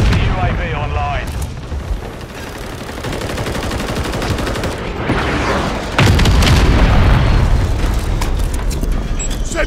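A Semtex grenade blast in Call of Duty: Modern Warfare III, heavy booms thudding amid dense gunfire and a loud battle din, swelling at around six seconds into a sustained roar.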